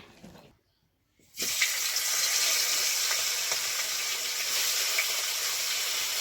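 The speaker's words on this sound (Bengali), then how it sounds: "এই মাছগুলো খুব তেল ছিটকাই" Fish frying in hot oil in a pan in a village kitchen, a steady loud hiss and crackle of spattering oil that starts abruptly after a brief quiet moment and continues without pause.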